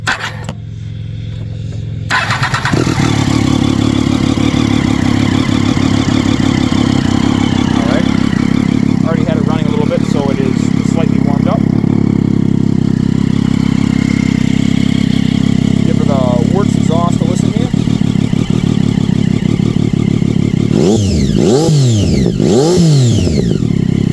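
A 2011 Triumph Daytona 675R motorcycle with a Werkes exhaust fitted with baffles cranks briefly, fires up, and settles into a loud, steady, close idle, with a few blips of the throttle near the end.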